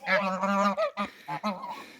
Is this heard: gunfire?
no